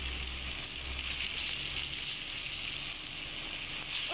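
Maggi noodles sizzle in a pan over low heat, a steady, soft, close frying hiss that runs unbroken without any voices.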